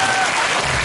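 Concert audience applauding for a guest singer at a live Taiwanese show, a dense, loud wash of clapping filling a brief moment, close and continuous with crowd noise beneath.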